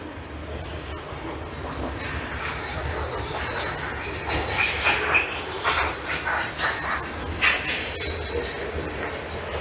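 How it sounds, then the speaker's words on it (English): A loud passing train rolls close by with squealing wheels and rattling cars, steady and dense throughout, with highway traffic roaring underneath and no talking. "As you can imagine, that highway traffic is pretty loud, and that train is pretty loud."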